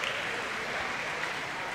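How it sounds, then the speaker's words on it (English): A crowd at an outdoor state championship track meet cheers and applauds after a clutch third-attempt jump, a steady, dense roar of clapping and shouting that fills the whole stretch without letting up. "And the Levitt crowd explodes."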